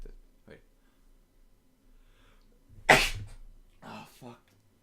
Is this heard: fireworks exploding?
no